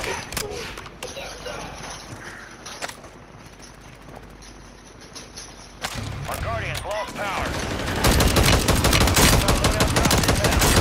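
Video game gunfire, quiet rattling early on, then rising into loud rapid volleys of automatic shots in the last few seconds amid game noise and a talking voice.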